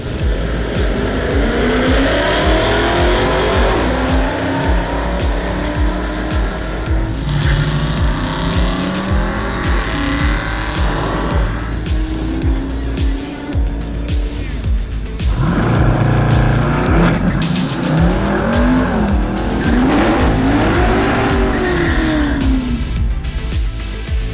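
Loud drag racing cars roar and rev down a drag strip, engines screaming through rising gear pitches with tire squeal, continuous and close for the whole stretch.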